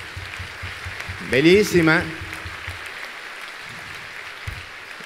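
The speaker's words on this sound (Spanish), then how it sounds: "vamos a recibir con un fuerte aplauso a esta bella familia" A church congregation applauds a family being welcomed at a women's service, a steady patter of clapping running under a voice that speaks briefly over it.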